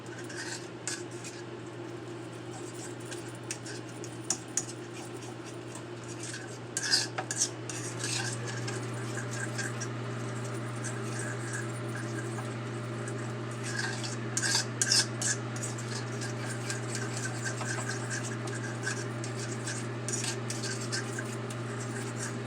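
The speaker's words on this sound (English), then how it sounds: "keep stirring until it gets smooth" A spoon stirring cheesy bechamel sauce in a pan, a steady run of close scraping and clinking against the pan, with occasional louder taps and a constant hum of background kitchen noise.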